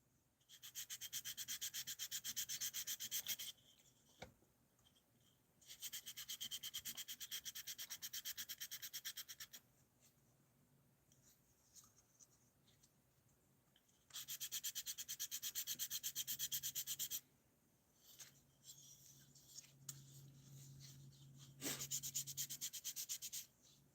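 Repeated long bursts of harsh, raspy sanding, several seconds each, separated by quieter pauses; close and steady with no talking.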